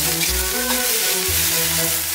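Garlic leaves hit a wok with pork belly and garlic bulbs, a loud close sizzle with scraping stirs and spatula knocks throughout the short burst.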